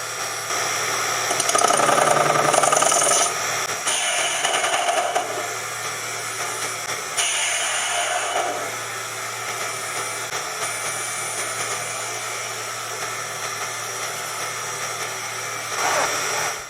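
A steady metallic machining whine and scraping hum from a 7x12 mini lathe facing bronze stock, with tonal squeals rising and falling across the cut.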